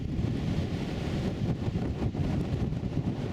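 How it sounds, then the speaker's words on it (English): Steady roaring wind buffets the microphone with a low rumbling rush at Buffalo Bill Dam in Wyoming, strong and constant throughout, no voices. "And very windy."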